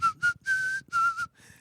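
Someone whistles a short, bouncy tune alone: a few clipped notes, a longer held note, then more quick notes fading out.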